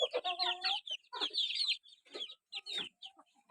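Month-old chicks cluck and peep in a coop on a cold day, a steady run of close chirping calls with brief pauses between bursts.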